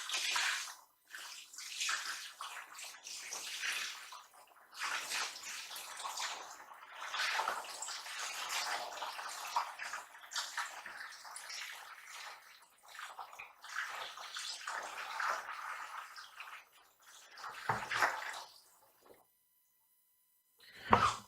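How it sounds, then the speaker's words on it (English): Water poured gently from a 5-gallon bucket into a reservoir, a steady splashing, gurgling stream that rises and falls over twenty seconds with short pauses, ending in a few louder sloshes, no talking. "get this 5-gallon bucket I have here and put some in gently, hopefully not getting too much splashback."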